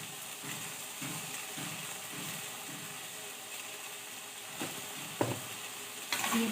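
Dal with turmeric and salt is stirred in a frying pot, a steady soft sizzle with faint rhythmic scraping strokes and a couple of louder clinks near the end.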